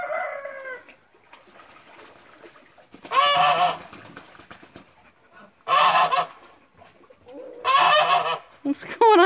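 A vocal female duck calls loudly in a farmyard near roosters, giving three bursts of harsh, honking quacks spaced a few seconds apart, close and dominant over quieter background chatter and distant fowl sounds.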